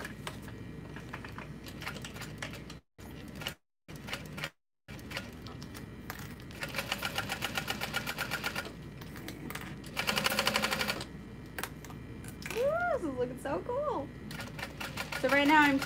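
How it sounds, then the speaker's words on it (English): A sewing machine top-stitches through layered waterproof canvas pieces of a pouch, running in several close bursts of rapid, steady needle chatter separated by pauses, alongside a talking voice. "Right now I'm top stitching through all my pieces, and I am going to top stitch the long side."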